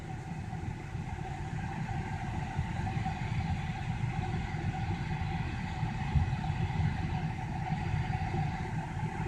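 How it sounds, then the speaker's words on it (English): A 2000 Honda Odyssey minivan reverses with a steady, continuous engine and drivetrain drone heard from inside, moderately loud and unbroken throughout. "just to show you that the transmission is working, I will move in reverse here."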